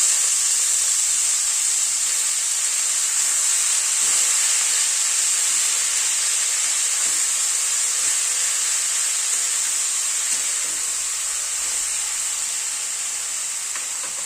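Spinach hitting a hot hing tempering in a pan, giving a bright, steady, loud hiss of sizzling and steam that fades slightly over the whole stretch, with light stirring taps underneath.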